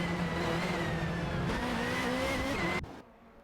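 An Opel Vectra and a Peugeot 406 race in an AI-driven racing game, with steady, loud engine whine, shifting revs and tire squeal, before the sound cuts off abruptly near the end.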